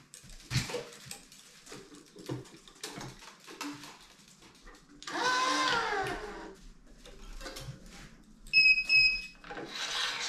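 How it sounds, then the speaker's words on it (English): Two short, high electronic beeps from a Prince Neos1000 tennis racquet stringing machine sound in quick succession near the end, after scattered rubbing, clicking and handling noises. "See, here are the two beeps."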